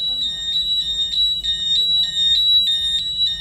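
A Zytec fire alarm system sounder going off indoors: a loud, shrill electronic tone pulsing in a steady fast on-off rhythm throughout, with a low background rumble.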